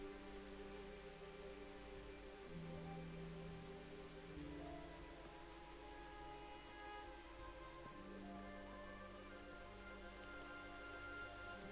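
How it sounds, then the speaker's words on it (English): Soft, steady rain hisses faintly in the medieval game Kingdom Come Deliverance, sitting low beneath sustained tonal game music with no talking. "And it's raining, which doesn't help."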